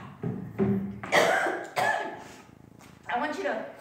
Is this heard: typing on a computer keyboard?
no